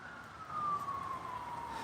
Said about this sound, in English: there goes a fire truck